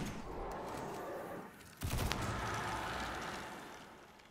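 Gunfire in the Destiny 2 video game: a steady roar of weapon fire and impacts, broken by a sharp, loud burst of shots partway through, then tailing off gradually.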